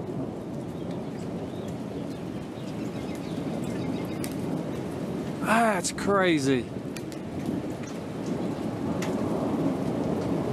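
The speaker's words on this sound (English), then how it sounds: "listen to that thunder, it's not stopping." Thunder rumbles low and continuously during a storm with rain and hail, a steady dull roll underneath; a person speaks briefly midway.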